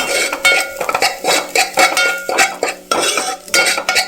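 Onions fry over medium-high flame while a utensil stirs them in a pan, producing loud, close, repeated metallic scrapes and clanks over a light sizzle.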